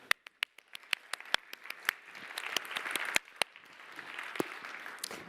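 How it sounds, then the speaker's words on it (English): An audience at a closing event for a Finnish national circular design programme gives a round of applause: sharp separate claps at first that swell into a dense, fairly close burst of clapping lasting several seconds. "I think that we should all together give a round of applause for this unique program"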